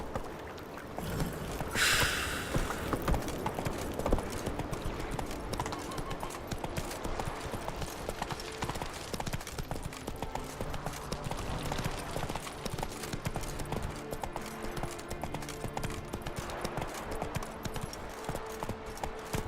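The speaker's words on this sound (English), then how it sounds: "Giddy up. Come on, Roach." Horse hooves clip-clop steadily in The Witcher 3 as the mount is ridden, a continuous rhythmic patter close by under layered game music and ambience, with a brief sharp burst near the start.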